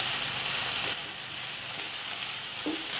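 Cubed capsicum sautés lightly in a hot pan for white sauce pasta, giving a steady close sizzle with a brief stir or scrape near the end.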